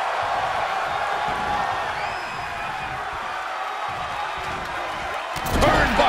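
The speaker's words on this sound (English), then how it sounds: "The sound of this crowd is deafening, and he's asking for more." A WWE 2K23 video game crowd roars in a steady wash of cheering and chants, swelling louder near the end.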